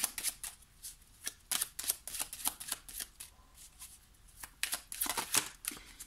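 Tarot cards being drawn and handled, with rapid papery flicks and shuffling snaps in irregular bursts, close and fairly quiet, no talking.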